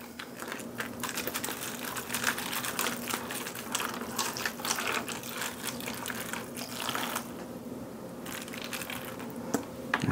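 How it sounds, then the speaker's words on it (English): Apple juice poured over pork burnt ends makes a continuous, close splashing trickle with crackly texture, running steadily before easing off toward the end. "So I've got apple juice."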